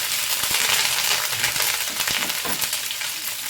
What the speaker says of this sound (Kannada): ಕರ್ಬೇವಿನ ಸೊಪ್ಪು ಮೆಣಸಿನಕಾಯಿ ಎರಡು ಹಾಕ್ಕೊಂಡಿದ್ದೀನಿ ಇದನ್ನು ಕೂಡ ನೀಟಾಗಿ ಫ್ರೈ ಮಾಡ್ಕೊಳ್ಳಿ